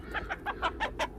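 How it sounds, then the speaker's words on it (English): An aggressive rooster on a small farm gives about six quick, loud clucking calls in a steady rhythm, close by. "Very aggressive rooster."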